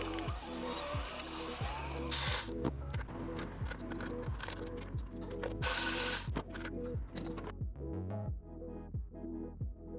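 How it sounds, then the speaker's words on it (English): A hand ratchet clicks in quick repeated strokes while loosening intake plenum bolts on an Infiniti V6 engine, close and crisp, with a brief pause before the clicking resumes. "We're going to remove the plenum bolts."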